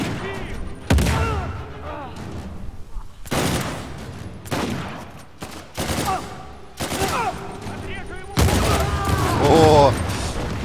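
Rapid gunfire in the video game Uncharted 4, with loud repeated bursts of automatic shots and booming impacts in several clusters, while someone talks over the shooting.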